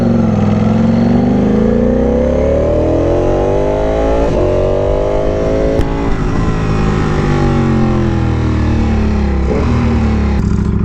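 The engine of a V4R motorcycle, freshly repaired and still idling unevenly, runs loud and close, its revs repeatedly rising and falling in smooth sweeps.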